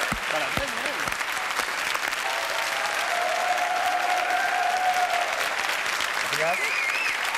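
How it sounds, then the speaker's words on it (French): Loud, continuous studio audience applause on a French television variety show, a dense roar of clapping with crowd noise, while voices speak and call out over it. "Applaudissements Bravo, pour Mireille, Mireille."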